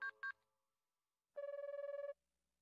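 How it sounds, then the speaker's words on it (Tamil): A mobile phone rings in a cartoon with a clean electronic tone: two quick beeps, a pause, then a longer warbling trill of rapid pulses, heard alone at moderate volume. "போன் ரிங் ஆகுது"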